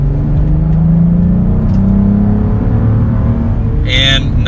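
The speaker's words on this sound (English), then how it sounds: "We'll give it a little bit of gas here and see what it sounds like in the quiet setting" A Cadillac CT4-V Blackwing sedan in its quiet normal drive mode gets a light blip of throttle, the engine note rising and falling in a short rev, close and fairly loud.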